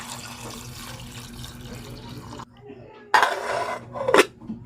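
Water is added from a tap into a metal pot while cooking chiton shellfish outdoors by a beach cave, with clanking of cookware and splashing that grows louder and then cuts off, no talk.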